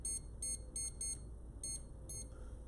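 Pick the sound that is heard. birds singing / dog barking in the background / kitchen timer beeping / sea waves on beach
kitchen timer beeping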